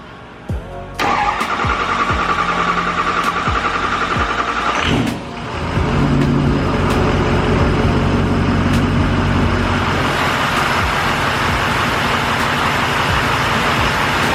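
A Ford Powerstroke 6.0 diesel truck cold-starts after sitting for a while, cranking for about a second before catching with a loud clatter, dipping briefly, then settling into a steady, rough, close-up idle that runs on.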